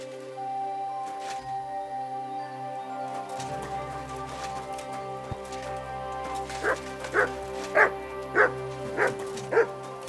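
Mutt, a dog in the video game Thunderstone Quest, barks in a quick run of five or six yips over a soft musical score, the barks coming near the end after a quieter stretch.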